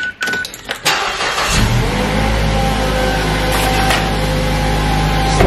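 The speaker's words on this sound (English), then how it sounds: "turn the car on first." A car engine cranks and catches after some clicks and handling noises, then settles into a loud, steady idle close by, with no talking over it.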